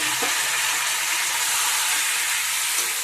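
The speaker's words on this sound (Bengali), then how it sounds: "আবারও নেড়ে চেড়ে মশলার সাথে কষিয়ে নেবো।" Pointed gourd with other vegetables such as banana flower, banana stem, fig and carrot is being stir-fried in hot oil with spices for a Bengali pachan dish, making a steady, close sizzle with occasional stirring scrapes and no voices.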